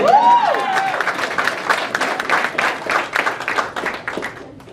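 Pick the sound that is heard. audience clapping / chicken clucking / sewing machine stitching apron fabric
audience clapping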